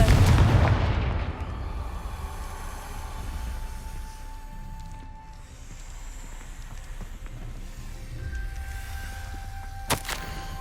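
Confringo fire spell explosions in Hogwarts Legacy: a loud booming blast opens, then a sustained rumbling roar settles under ambient game sound, with a sharp crack near the end.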